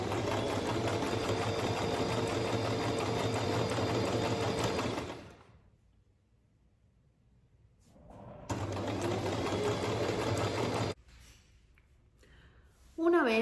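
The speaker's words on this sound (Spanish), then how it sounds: "Como estoy trabajando con esta tela y con una máquina familiar, lo voy a unir todo con puntada zigzag" Domestic sewing machine stitching a zigzag seam in fabric, a steady, close mechanical whir for several seconds, a pause, then a second run and a few brief starts, with speech faint or absent.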